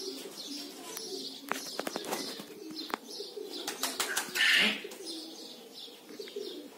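Domestic pigeons fly overhead while nearby birds coo softly, with sharp wing claps and flutters, scattered chirps and a brief louder flapping burst partway through, outdoors at moderate distance.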